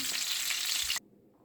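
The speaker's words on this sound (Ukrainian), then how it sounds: "Смажиться дуже, дуже швидко." Chebureki made from thin lavash fry in a pan with a loud, close, steady sizzle that cuts off abruptly about one second in and leaves near silence.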